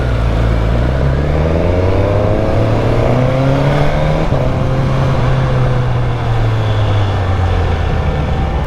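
A 2022 Suzuki GSX-S1000 fitted with a Yoshimura R11 exhaust rides steadily, its engine note climbing and dropping through gear changes as it accelerates, loud and close throughout with no talking.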